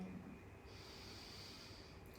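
Steady nasal breathing during a calm yoga stretching session for the lower body, a soft hissing airflow that lingers through the whole stretch, close and quiet with no talking.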